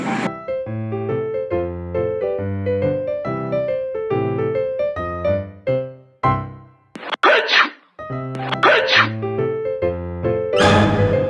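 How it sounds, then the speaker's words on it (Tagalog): A sneeze bursts out near the end of a short animated scene, loud and close, after a stretch of plucky cartoon music with a few brief stabs and breaks in the sound. "Hala, bakit ka bumahing?"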